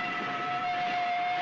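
Train carriage rumbling along as the train pulls away, a steady dull rolling noise with a faint high whine running through it, no voices.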